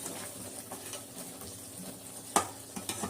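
Chettinad-style prawn gravy, made with ground pepper, cumin and fennel, simmers and sizzles in a pan with a steady close frying hiss, broken by a sharp scrape of stirring near the end.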